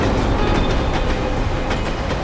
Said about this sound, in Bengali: আর ট্রেনের আওয়াজও শুনতে পেয়েছিলাম আমি।